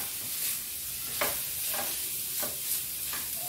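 Grated paneer, about 200 grams, frying over medium heat in a pan as it gets stirred, giving a soft steady sizzle broken by several brief scraping strokes at irregular intervals, with no one talking.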